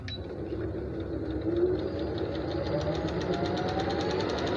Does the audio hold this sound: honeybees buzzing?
no